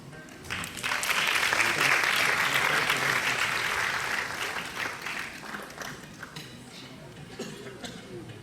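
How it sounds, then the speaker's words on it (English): An audience at a silver jubilee celebration applauds volunteers receiving an award, a broad wash of many hands that swells quickly, holds loud for a few seconds, then gradually thins and softens. "Big round of applause."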